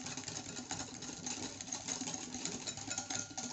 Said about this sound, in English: Then using a whisk, we are going to whisk this. Whisk until the egg is all combined.